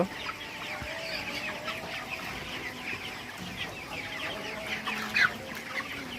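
Broiler chickens clucking in a farm shed, a continuous dense chorus of many birds at moderate distance with an occasional louder nearby squawk.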